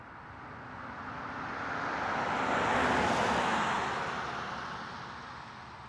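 A car sound effect used in an animation: a smooth, broad whoosh of a passing vehicle that builds to a peak mid-way and then fades away evenly, with no voices.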